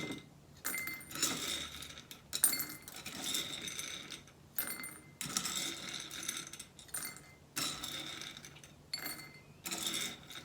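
Children drop dry beans one-handed into a bowl during a timed classroom game, giving scattered small clicks and rattles in irregular bursts, fairly quiet, with gaps between handfuls.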